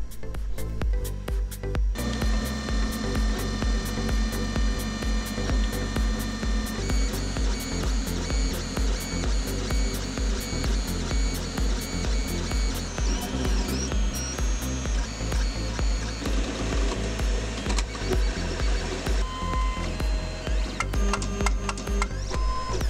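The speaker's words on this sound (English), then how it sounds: "the printer does make a decent amount of noise when it's running." A Stanley Model 1 3D printer whirs and buzzes steadily, with rapid ticks and shifting mechanical tones from stepper motors, running alone for the whole stretch.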